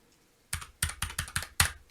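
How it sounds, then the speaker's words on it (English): Six crisp key clicks from a SteelSeries Apex 9 gaming keyboard, recorded close and fairly quiet, in an uneven rhythm after a short silence. "Typing noise, it's rated pretty quiet."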